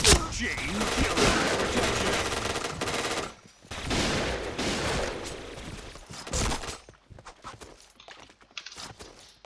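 A SPAS-15 shotgun fires in rapid bursts in the online shooter Point Blank, loud booming shots in quick runs separated by short pauses, with a voice heard briefly under the gunfire.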